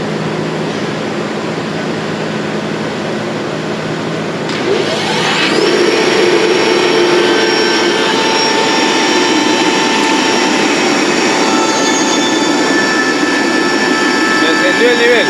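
A FIAC New Silver air compressor switches on partway through, its steady motor drone and hiss rising abruptly and then running continuously and loudly to the end.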